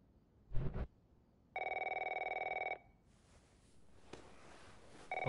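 A telephone rings in The Last of Us, one long electronic trill burst standing out clearly in a quiet room, followed by faint shuffling movement.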